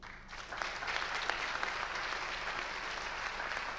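A conference audience applauding at the closing session of a festival event, a steady dense wash of clapping that holds evenly throughout, fairly close and full, with no voices over it.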